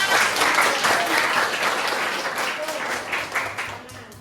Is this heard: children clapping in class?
yes